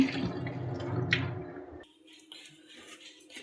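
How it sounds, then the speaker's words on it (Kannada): Water drains and drips from washed semolina being pressed by hand in a home kitchen, a wet squishing trickle that tapers into scattered faint drips. "ಈ ರವೆನ ಈ ಥರ ನೀರು ಇಲ್ದಂಗೆ ಬಸ್ಕೋಬೇಕು"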